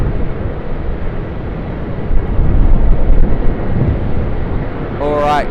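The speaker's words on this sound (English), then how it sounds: "Alright, Qantas 737-800. Runway 25" A Qantas Boeing 737-800 on runway 25 at Sydney Airport produces a loud, steady jet roar that swells slightly midway, with wind buffeting the microphone and a voice starting at the end.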